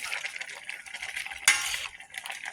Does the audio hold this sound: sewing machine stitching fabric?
no